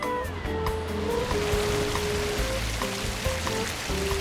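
Surf rolling onto Estoril's main beach on the Portuguese Riviera, a steady wash of waves heard alongside faint tonal sounds.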